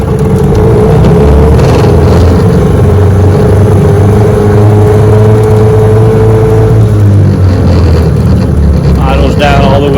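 A 1996 Johnson 15 HP outboard motor runs loud and close in neutral, holding a steady drone before the revs drop back, with some rumble and noise around it.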